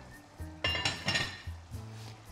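A lid goes onto a pot of saffron rice pilaf simmering in hot water, giving a short metallic clatter and clink that is moderately close and heard alone over a quiet background.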